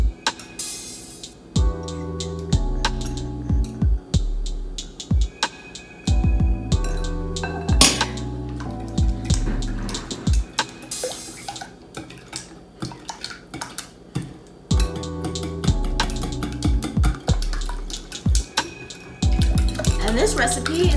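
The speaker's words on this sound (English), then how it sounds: "Whisk it all in." A whisk beats cake batter with vanilla extract in a bowl, making rapid, rhythmic clinking and scraping against the sides in steady bursts, close and fairly loud, with brief pauses and no voices.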